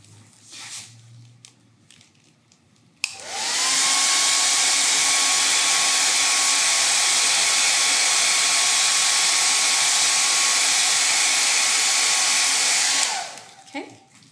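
A hair dryer switches on abruptly, blows a loud steady whoosh with a constant motor whine over stenciled paint for about ten seconds, then cuts off; faint handling noises come before it.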